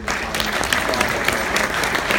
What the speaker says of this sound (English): I think we owe a big round of applause to the Surrey Board of Trade and all the chambers of